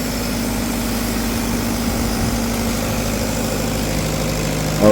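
A 62.5 kVA Tata Cummins trolley-mounted diesel generator running near full load, a steady, dense low engine drone with constant vibration, close and loud without any talk.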